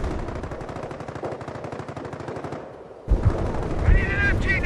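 Rapid machine-gun fire in a Company of Heroes World War II battle at Chambois, a long dense string of fast bursts followed by a short pause, then heavier gunfire and explosions with battlefield voices calling out underneath.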